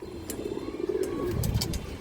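Pigeons coo nearby in a soft, rolling series of low throaty calls. Brief clicks and knocks sound in the background.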